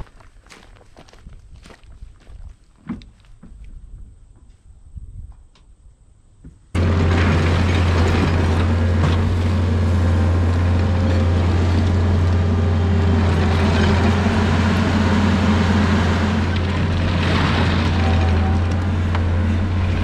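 A big skid steer works inside a small space moving gravel for a shipping container barn floor, its engine kicking in loud and steady after a few quiet thumps and staying at a constant roar.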